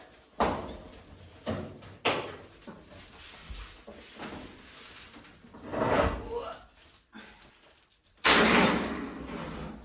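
Oven door swung open and shut to slide in a veggie pot pie, with a sharp thump early, a few smaller knocks and clatters in the middle, and a loud closing bang near the end, heard close by with some talking.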